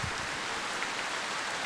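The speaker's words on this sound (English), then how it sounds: "this is basically what it's been doing for the past 3 days. It's raining." Steady rain falling outdoors, a continuous dense hiss of drops on surfaces, even and moderately loud for the whole stretch, with no talking.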